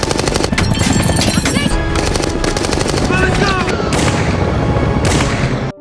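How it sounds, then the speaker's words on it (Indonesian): Loud, continuous automatic gunfire from a battle scene in the Avatar film, with dense rapid bursts of machine-gun fire and booming impacts over a music score, with voices briefly mixed in. "Kolonel melihatnya dan langsung keluar menembaki mereka."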